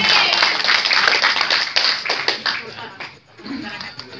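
Crowd applause for a neighbourhood RW head at a community thanksgiving gathering, dense steady clapping from many hands that thins and dips near the end before picking up again.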